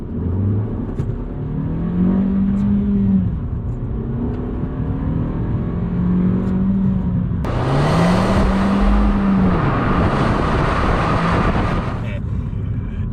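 Suzuki Swift Sport 1.4 turbo driving along, engine note rising and falling through gear changes with a steady road roar, turning louder and brighter partway through as it accelerates hard.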